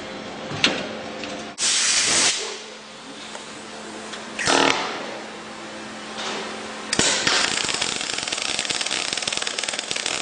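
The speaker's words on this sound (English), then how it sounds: "Now we're just going to go to do a plug weld." Telwin MIG welder laying a plug weld on metal, a loud crackling, hissing arc that starts and stops in several separate bursts, with a steady sputtering run toward the end.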